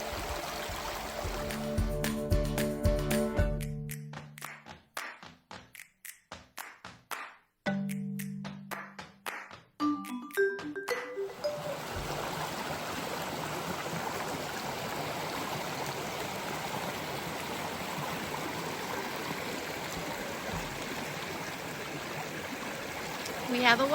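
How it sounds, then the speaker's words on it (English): Water flows steadily over rocks in a stream on a hiking trail in Maine, a constant rushing wash filling the second half after a stretch of music and clicks. "With the water over those rocks."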